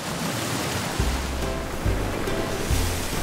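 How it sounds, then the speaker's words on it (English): A big ocean wave surges and washes in with a loud, broad roar that swells and recedes over a few seconds, with low pulsing tones beneath. "Big wave."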